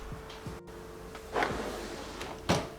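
A makeup storage drawer slides open and shut in a quiet room, producing a few soft, separate scrapes and knocks at close range.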